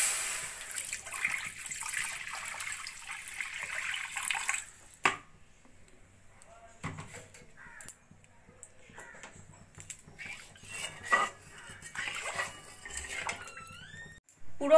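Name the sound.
water being added to a wok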